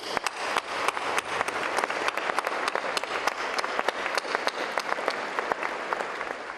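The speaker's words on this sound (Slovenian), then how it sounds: "predlagam, da jim gromko zaploskamo." A hall full of people at a meeting of young researchers claps loudly and continuously, with individual sharp hand claps standing out from the dense wash of applause.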